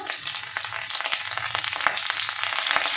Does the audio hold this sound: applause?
no